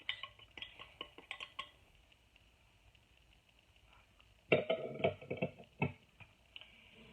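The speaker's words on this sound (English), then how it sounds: "we're going to mix these 2 ingredients together pretty good first" A spoon scrapes and clinks against a bowl while dry soup mix ingredients such as cornstarch are mixed, with light ticking at first and then a louder cluster of clattering strokes, close and without speech.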